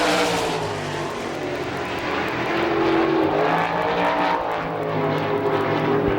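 Sprint race cars on a lap at a Pittsburgh speedway, with a steady, loud engine roar that holds at high volume throughout and no break.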